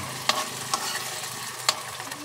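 A spoon stirs sautéed sardines in a hot pan, producing a few sharp scraping clicks spaced irregularly over a continuous close sizzle, with no talk.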